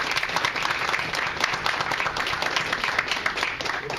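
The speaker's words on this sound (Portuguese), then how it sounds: "queria puxar uma salva de palmas para todo mundo" An audience at a public hearing applauds steadily, dense clapping from many hands sustained throughout at an even, fairly close level, with no talk over it.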